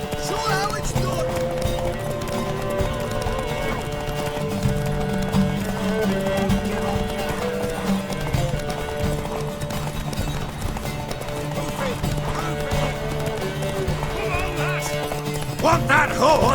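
A horse in The Witcher III on Switch clip-clops steadily with occasional neighs and whinnies, set under game music and characters talking throughout.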